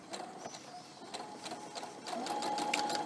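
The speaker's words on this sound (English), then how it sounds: "Then we're going to sew from the top down" A sewing machine runs steadily for about three seconds, stitching a fabric fruit protection bag from the top down, its fast mechanical whir close and continuous, growing slightly louder toward the end.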